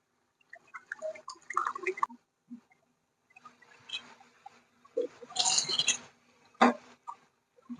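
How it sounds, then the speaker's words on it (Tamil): Hot water goes into a pan of chicken curry gravy with sporadic close splashes and drips in short bursts separated by quiet gaps. "சூடு தண்ணி தான் நாங்க ஆட் பண்றோம்."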